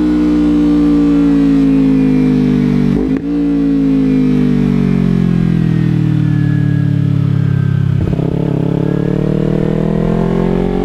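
Motorcycle fitted with a new aftermarket exhaust revving loud and close, a throaty engine note that swells and sinks in pitch, with two sharp breaks where the revs drop briefly before building again.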